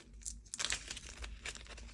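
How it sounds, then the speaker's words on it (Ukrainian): A paper seed packet crinkles and tears up close in a quick burst of rustling as it is ripped open. "І тепер Відкриваю пакетик."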